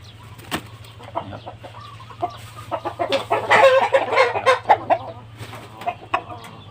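Seven-month-old Burmese ornamental chicken clucking in a series of close, busy calls over a steady low hum, with a louder, denser burst of clucks midway.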